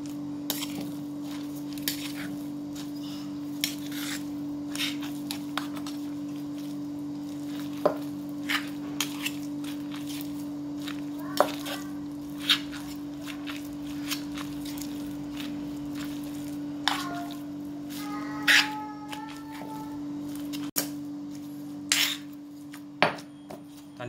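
Seasoned pork and glass noodles are mixed and kneaded by hand in a bowl, producing soft squelches and scattered clinks of a utensil against the dish over a constant low hum, with no talk.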